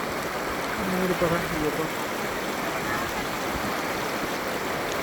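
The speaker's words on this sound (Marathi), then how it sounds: "आता नदीत उतरलो आम्ही. एकदम बर्फासारखं थंड पाणी आहे" A cold, clear river flows over stones near a waterfall, giving a steady, loud broadband rush that fills the whole stretch while a voice briefly speaks over it.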